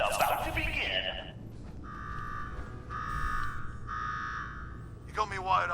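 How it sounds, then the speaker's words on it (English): In the Fallout 4 video game, an alarm sounds in repeated steady electronic buzzing tones, each about a second long with short gaps between them. Voices speak before and after it. "Now go shut off that damn alarm"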